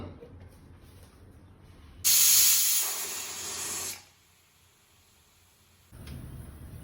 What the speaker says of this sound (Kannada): ಕಾಬೂಲ್ ಕಡಲೆ ಇದು ಎರಡು ಸಿಟಿ ಬರೋ ತನಕ ಇದನ್ನು ಕುಕ್ಕರಲ್ಲಿ ಬೇಯಿಸ್ಕೊಳ್ಳೋಣ